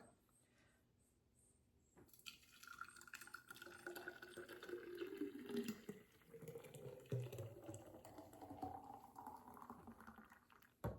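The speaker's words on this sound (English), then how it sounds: "I'll pour it into the mason jar here" Liquid pours steadily into a mason jar, the gurgling pitch rising as it fills, starting after a quiet moment and running for several seconds.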